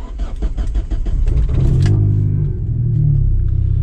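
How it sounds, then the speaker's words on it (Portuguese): A Ford car's engine cranks and catches close by, then settles into a loud, steady low rumble, ahead of a 0-100 acceleration test using launch control and flat shift. "Vamos lá ligar o carro."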